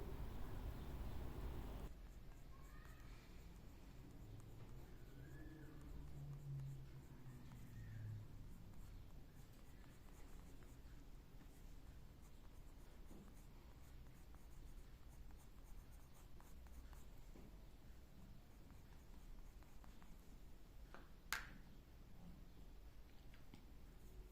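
Colored pencil shading a blue iris drawing on paper: a faint, soft, continuous scratchy rubbing of pencil strokes, close and quiet, with low background noise.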